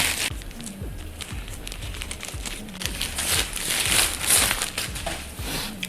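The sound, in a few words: opening a parcel package containing wallpaper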